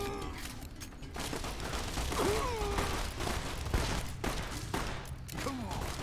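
Gunfire from a shootout with Powder Gangers in the video game Fallout: New Vegas, a steady stream of rapid shots and mechanical clatter that stays fairly quiet throughout.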